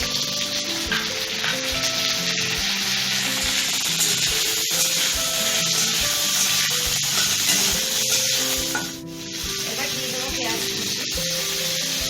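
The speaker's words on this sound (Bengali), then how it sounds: "একটুখানি লাল হলেই আমি চিকেনটা ঢেলে দেব।" Chicken pieces frying in a pan for momo filling, a steady loud sizzle running throughout with occasional stirring scrapes, while music plays over it.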